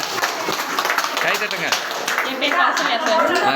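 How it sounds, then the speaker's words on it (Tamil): Audience clapping for a woman farmer presenting her amutha karaisal growth-promoter product at a dairy and agro-processing training, a dense steady patter of many hands filling the room with voices mixed in. "கைத்தட்டுங்க அந்த அக்கா"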